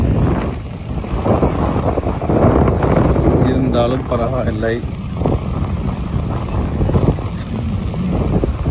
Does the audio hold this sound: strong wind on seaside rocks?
yes